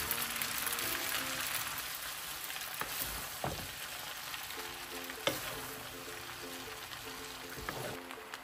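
Noodles with shrimp and pre-fried egg frying and being stirred in a pan, a continuous loud sizzle with occasional scraping stir strokes, no talking.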